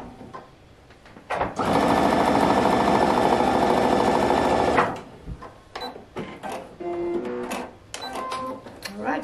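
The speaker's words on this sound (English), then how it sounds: "I just hold it and sew it down" A sewing machine stitches strings down on a quilt-as-you-go sideboard quilt, running loud and steady for about three seconds with a dense mechanical buzz, then stopping; scattered handling clicks and rustles follow.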